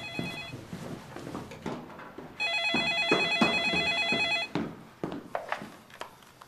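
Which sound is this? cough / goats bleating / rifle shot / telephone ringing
telephone ringing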